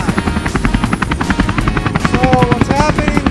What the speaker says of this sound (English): I need a helicopter.